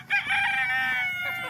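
A rooster crows on a small chicken farm, one long, loud, close crow that rises and holds steady before trailing off, with no voices.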